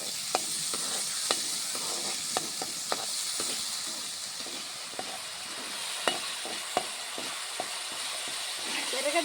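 Mushroom masala curry sizzles steadily in a pan while a spoon stirs it with repeated sharp scrapes and clicks, close and fairly quiet, with no talking.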